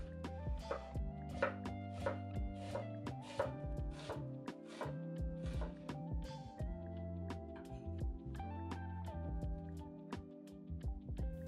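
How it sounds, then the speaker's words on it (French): A kitchen knife slices a small onion for Korean stir-fried squid, with rapid, evenly spaced chops landing close by over steady background music. "On commence avec un petit oignon que nous allons émincer."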